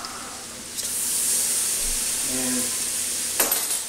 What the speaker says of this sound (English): I like to cook it a little bit. Brown that garlic just a little.